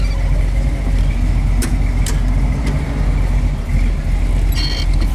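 A 1968 Chevrolet Camaro convertible drives along, its engine giving a steady, loud rumble with road and wind noise throughout and a few brief clicks and rattles.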